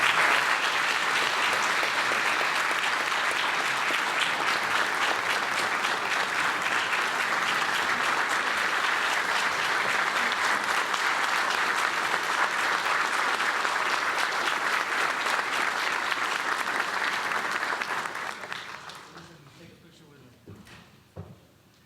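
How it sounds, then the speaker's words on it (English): Sustained applause from the audience at Weslaco's State of the City address, thick steady clapping for roughly eighteen seconds that then tapers off, leaving a few scattered claps and quiet room noise. "Another round of applause for this team that is making change happen here in Weslaco,"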